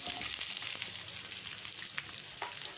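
Large-cut onions and green chillies fry in a pan, giving a short burst of continuous, hissing sizzle close to the listener.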